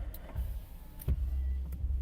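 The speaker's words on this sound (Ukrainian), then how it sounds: "По електриці склопідйомники в нас працюють" An Audi A4 B7's power window motor whirs steadily, broken by a few short clicks and thumps from inside the vehicle.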